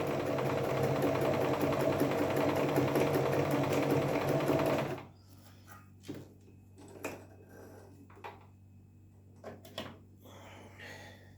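A Singer Promise 1412 sewing machine runs steadily for about five seconds, a close, dense mechanical whir. It then stops, leaving a few quiet clicks and handling knocks against near silence.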